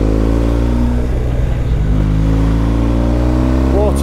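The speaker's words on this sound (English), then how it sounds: "This exhaust does sound good. Really bedded in now. Got a lovely pop and gurgle." A motorcycle engine drones steadily at close range on a mountain road in the Picos de Europa, its exhaust note rumbling, popping and gurgling throughout with a brief rise in revs near the end.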